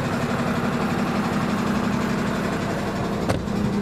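Freightliner M2 106 truck diesel engine idling, a steady low rumbling drone heard close, with one brief click near the end and no talk.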